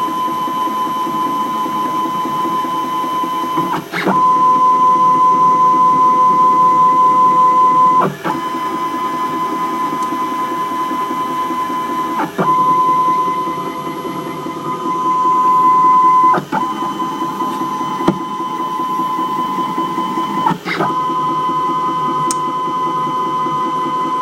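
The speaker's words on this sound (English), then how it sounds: "3D printer." A 3D printer steadily prints a three-dimensional part, its stepper motors whining in a sustained pitched drone with brief clicks and shifts in tone every few seconds as the head changes direction, loud and close with no talk.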